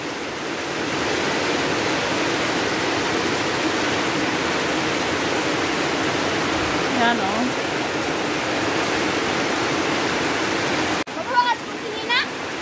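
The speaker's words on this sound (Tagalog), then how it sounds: "Grabe yung ulan. Ang aga po ng ulan" A steady, dense roar of heavy rain pours down without letup, and brief voices break in near the end.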